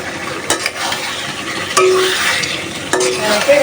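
Snakehead fish sautéed in spices in a pan, a loud close sizzle broken by a few sharp scraping stirs of the utensil against the pan.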